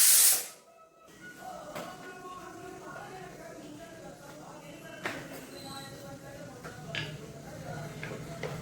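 A pressure cooker lets out a loud, sharp burst of hissing steam for about a second, then it cuts off and faint kitchen clatter and light shuffling continue at a distance.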